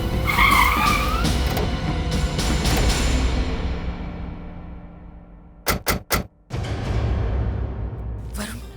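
A car skids hard in a horror drama scene, a loud sustained tire screech that fades out, followed by a few sharp knocks before another rush of noise.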